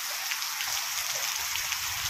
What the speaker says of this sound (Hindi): जोरे वर्षा